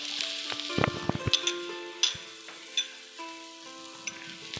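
Carrot, cabbage, capsicum and broccoli stir-fry in a hot pan for a crispy noodle soup. A soft, steady sizzle runs throughout, with scattered clinks and scrapes as the utensil stirs the vegetables.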